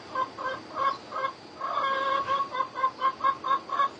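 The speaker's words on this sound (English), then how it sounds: "There's my yard guard over there clucking at me." A yard chicken clucks nearby in a quick run of rhythmic, evenly spaced clucks, with a brief longer call partway through, all fairly close and with no talking over it.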